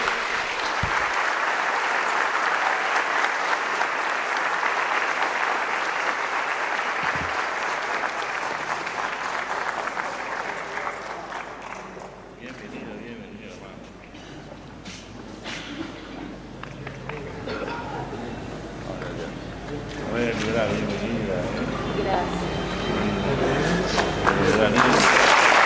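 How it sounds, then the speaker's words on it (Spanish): A church congregation gives strong, sustained applause. The clapping fills the space, eases off partway through and then builds again, with crowd noise mixed in. "Un fuerte aplauso ante la Iglesia de Dios"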